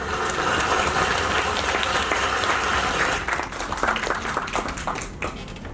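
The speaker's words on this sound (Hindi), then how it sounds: "जोरदार तालियों से स्वागत कीजिए सफल अधिवक्ता और लॉ फैकल्टी राकेश मलिक जी का" An audience at an academic excellence awards event welcomes a speaker with strong, steady applause that thins out toward the end.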